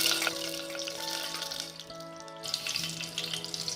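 Oil crackles and sizzles steadily in a hot pan as sugar cooks for a jackfruit curry, a close continuous frying hiss with no talking.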